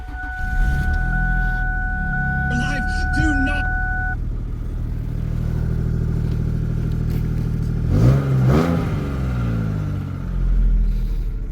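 A 1999 Ford Taurus SE DOHC engine cranks and fires up in cold weather, then settles into a steady running idle with a low mechanical hum, a faint high whine in the first seconds and a few quick revs near the end.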